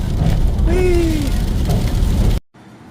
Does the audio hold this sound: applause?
no